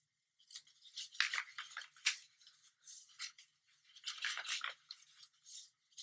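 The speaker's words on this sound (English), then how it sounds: "now you're going to fold this up like an origami fan" Paper folded into an origami fan makes crisp, close crinkles and rustles in quick irregular bursts, separated by short pauses, with no voices.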